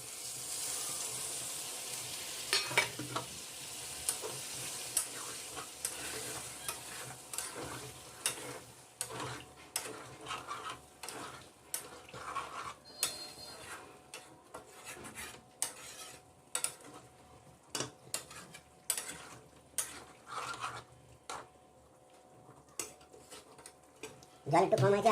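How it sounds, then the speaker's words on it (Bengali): Chicken braising as kosha in a pan gives off a low sizzle, broken by frequent scraping and clinking as a utensil stirs against the pan. "মাংসটা এখন তৈরি হচ্ছে, কষা হচ্ছে"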